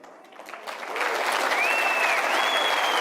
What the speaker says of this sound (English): He actually paused long enough to let them clap.